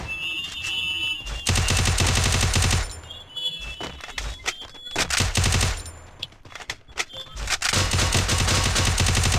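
Bursts of automatic gunfire in a battle royale video game, loud and close, with long sustained rattling volleys broken by short pauses and scattered single shots, and no talking.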